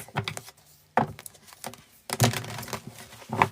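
Tarot cards being shuffled by hand in quick, irregular bursts of crisp rustling and flicking, with short pauses between handfuls, close and fairly quiet.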